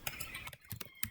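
Quick, faint keystrokes on a computer keyboard tap out a short burst of irregular clicks.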